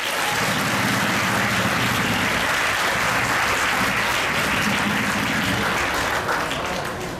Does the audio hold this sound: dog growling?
no